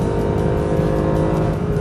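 A Mercedes SLS AMG Black Series on a flat racing circuit roars at high revs toward its 8,000 RPM limit, a loud, sustained, close engine howl with no break.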